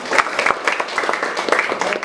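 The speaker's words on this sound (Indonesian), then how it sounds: "tepuk tangan dulu" A classroom audience claps after a group presentation, a short burst of scattered hand claps at an uneven rhythm, close and moderately loud, with faint voices mixed in.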